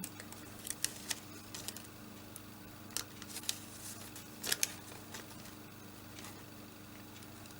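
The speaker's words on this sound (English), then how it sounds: "It doesn't cut quite as easily as normal paper" Scissors snipping through glassine paper at a craft table, a series of quiet, irregular clicks and crisp cuts over a faint steady hum.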